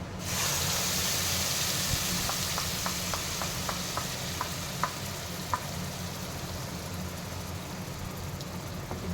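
Ground masala paste sizzles in oil in a pan over low heat for an aloo peas gravy, a steady broadband frying hiss with a string of small popping crackles, close and continuous with no talk.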